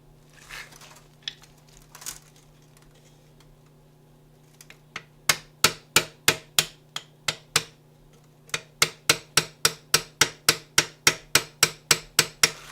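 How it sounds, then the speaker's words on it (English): Hammer taps seat a new U-joint bearing cap on a Ford Explorer driveshaft: after a quiet stretch with faint handling noises, two bursts of sharp, evenly spaced metallic knocks ring out, about two dozen close strikes in all. "go ahead and give it a couple love taps with the hammer"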